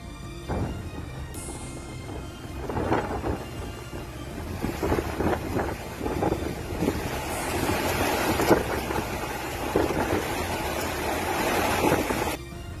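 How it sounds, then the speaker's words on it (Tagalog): Strong waves pound the shore at Kalayan in Bicol's coastal area under a tsunami threat, a rough, roaring wash that surges and crashes repeatedly amid wind buffeting the microphone. "makikita at maririnig ang malalakas na hampas ng alon sa baybayin"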